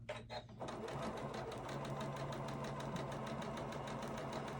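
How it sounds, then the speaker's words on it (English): A sewing machine runs continuously at a steady fast rhythm while top stitching a fabric face mask with a filter pocket, close up and alone after a brief start. "And now I'm going to top stitch it."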